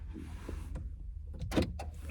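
A car is parking nearby in a lot, giving a low engine hum and a muffled mechanical thunk that sounds like a door or window, with a short louder clatter toward the end.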